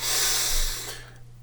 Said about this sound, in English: Let's take a nice breath.